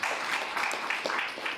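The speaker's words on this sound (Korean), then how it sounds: "우리 큰 박수로 환영하겠습니다" Applause from a church congregation welcoming visiting guests, a steady wash of many hands clapping at moderate volume throughout.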